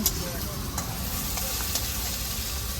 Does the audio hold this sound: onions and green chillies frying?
yes